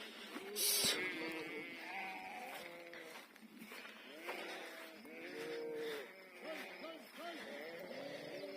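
A flock of sheep bleats repeatedly in overlapping calls, some near and loud, others farther off, out at pasture on a Turkish farm during lambing season, with a voice speaking briefly over them.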